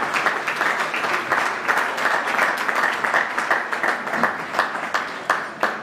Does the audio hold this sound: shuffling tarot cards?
no